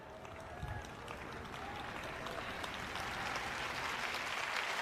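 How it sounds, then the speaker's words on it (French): Church congregation applauding during a French-language sermon, a broad wash of many hands clapping that swells slightly toward the end, with crowd murmur blended in. "Vous n'êtes pas enthousiasmé, mais vous applaudissez au moins."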